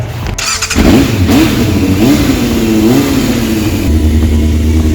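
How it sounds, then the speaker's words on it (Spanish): An old 1997 Thundercat motorcycle engine revs loud and close, its pitch rising and falling in steady surges before settling into a rough idle, no voices. "Es una moto vieja del 97, llamada Thundercat."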